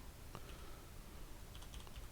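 A computer keyboard is tapped in a quick, faint burst of keystrokes while a command is typed on a Linux system, the clicks sparse at first and then clustering near the end.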